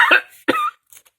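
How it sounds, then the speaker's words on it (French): A person coughs twice in quick succession, two short, close, raspy bursts followed by a faint breathy trailing sound. "Je vais finir un jour par me débarrasser de ma toux."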